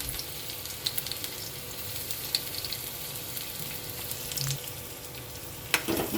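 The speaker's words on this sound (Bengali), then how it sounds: "প্রথমে কড়াইতে একটু রসুনটা দেব," Garlic frying in oil in a kadai wok as the start of a Maggi noodle recipe, a soft continuous sizzle with occasional light clicks of a spatula, close up and fairly quiet, with no speech.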